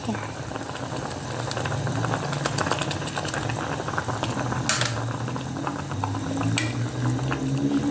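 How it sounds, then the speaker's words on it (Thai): Tilapia soup with tomato and spring onion boils hard in a pot, a close, continuous bubbling and popping that stays steady throughout, with occasional sharper pops. "เมนูง่ายๆ แต่อร่อยนี่ ค่ะเดือดนะคะทุกคน"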